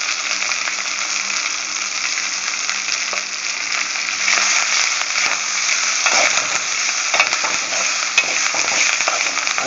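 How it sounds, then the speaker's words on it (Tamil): Curry leaves and a sprinkle of asafoetida fry in oil over a low flame, a dense steady sizzle close up with faint stirring scrapes throughout. "அடுப்பை சிம்மில் வச்சு அப்படியே நல்லா வறுத்துக்கிட்டே இருங்க"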